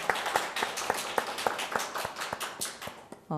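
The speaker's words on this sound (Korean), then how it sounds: "큰 박수로 맞아주시기 바랍니다" Audience applause at a policy forum on community suicide prevention, with steady rhythmic claps in a moderately sized hall, distinct individual hand strikes within a continuous wash of clapping, no voices over it.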